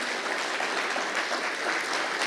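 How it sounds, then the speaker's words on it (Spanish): Dense, continuous applause from a church congregation fills the room at a steady loudness, a sustained wash of many hands clapping with no speech over it. "Ese aplauso es para el Señor."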